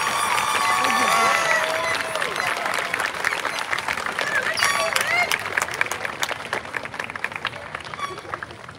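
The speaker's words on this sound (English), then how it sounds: "Let's give your parents a big round of applause" A crowd at a graduation ceremony claps and cheers in sustained applause for parents, thick and continuous with voices mixed in, gradually settling toward the end.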